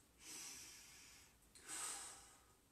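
Two slow, deep breaths during a yoga flow, each a long airy hiss with a breathy rise and fade, close and clear against a quiet room with no talking.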